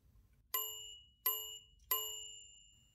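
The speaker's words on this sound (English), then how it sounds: "If you open this window, there is the bell of the margin." Margin bell of an old AEG No 6 German typewriter ringing three times in even succession, each a bright clear ding that rings on and decays, close and alone over faint low hum.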